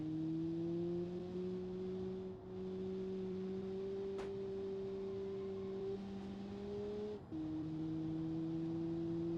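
Engine of a low, stiff car with a sequential gearbox driving in the BeamNG video game, a steady droning hum holding pitch with small shifts and a brief dip, no talk.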